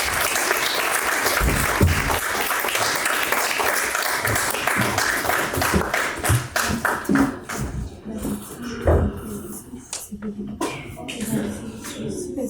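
An audience at a university thesis competition final claps loudly and steadily. Toward the end the applause breaks into scattered claps with some shuffling and low voices.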